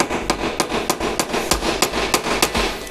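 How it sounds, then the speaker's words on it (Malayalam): Spanner or screwdriver tapping the lower fork adjusting nut on a TVS scooter's cone set gives about a dozen sharp metallic knocks in a quick steady rhythm, close and loud, with no talk. "അടിയത്തെ അഡ്ജസ്റ്റിംഗ് നെട്ട് നമ്മൾ ഒരു സ്പാനർ ഉപയോഗിച്ച് അല്ലെങ്കിൽ ഇതിൻ്റെ ഒരു സ്ക്രൂ ഡ്രൈവർ ഉപയോഗിച്ച് നമ്മൾ പതുക്കെ തട്ടിക്കൊടുക്കുക"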